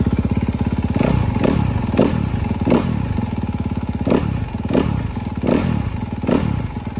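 A motorcycle with a stock engine and stock OEM exhaust runs close up, a fast steady idle chatter broken by eight or so sharp throttle blips at roughly even intervals, loud and with no voices.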